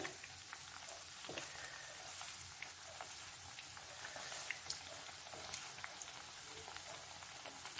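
Slices of bread fry in a pan and are turned over, giving a faint, steady crackling sizzle with scattered small pops. No one speaks over it.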